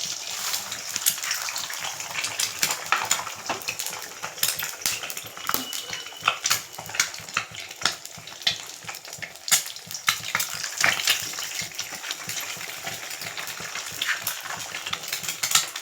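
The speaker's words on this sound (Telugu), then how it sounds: "ఆయిల్ హీట్ అయిపోయింది. ఇప్పుడు ఏం చేయాలంటే ఎగ్స్ వేసేసుకుందాం." Eggs sizzle in hot oil for egg fried rice, a dense, continuous crackle with sharp pops and occasional utensil clinks against the pan, close and steady with no talking.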